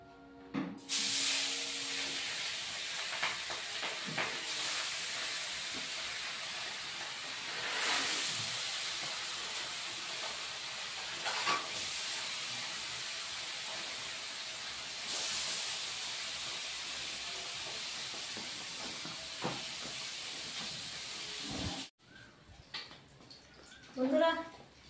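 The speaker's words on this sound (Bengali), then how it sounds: "এখন মাছটা ভেজে নেই বন্ধুরা" Pabda fish sizzling and hissing in hot oil in a pan, a steady loud frying hiss with occasional sharp spatters, continuous for most of the stretch before stopping abruptly near the end.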